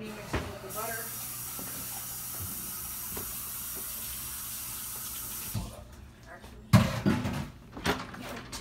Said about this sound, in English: I'm gonna rinse this out a little bit just because of the honey